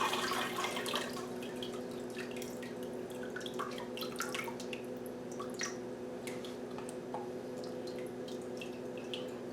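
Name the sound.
cooked squash draining, water dripping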